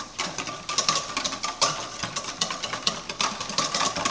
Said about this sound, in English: what I'm going to do is whisk them